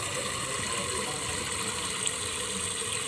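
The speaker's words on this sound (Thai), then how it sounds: "เทน้ำทิ้งนะคะอย่างนี้เลย" Water poured out of a pot while rinsing mung beans for Thai mung bean sweets, a steady continuous splashing rush lasting several seconds, close and fairly loud with no talk.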